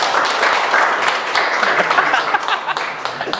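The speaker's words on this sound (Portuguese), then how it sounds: "Palmas para os dominantes, gente." Audience applause with chatter from staff gathered at a year-end company event, dense clapping filling the space at a steady loudness, with voices mixed in.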